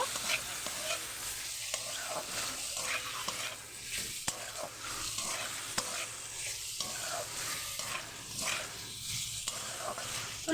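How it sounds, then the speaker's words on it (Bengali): Chicken filling for flour-dough pasties is stirred and pressed around a pan over low heat, giving a steady close sizzle broken by repeated scraping strokes of the spatula, with no talking. "এটা ভালোভাবে আমি কষিয়ে নেব।"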